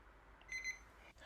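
A kitchen or facial-care countdown timer gives a few short, thin electronic beeps as it is set to three minutes, faint over a quiet room.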